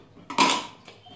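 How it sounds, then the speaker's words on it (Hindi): A metal pressure cooker lid is opened after its steam has been released while cooking moong ghugni, giving one close metallic clank and scrape followed by a fainter knock, with no talk. "हमारी कुकर की स्टीम निकल चुकी है और मैं इसे अब खोल के देखती हूँ।"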